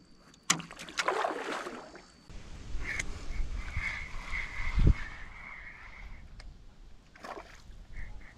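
A canoe is paddled on water during a fishing trip, with close splashes and knocks of the paddle against the hull, one sharp thump partway through, and faint animal calls in the background.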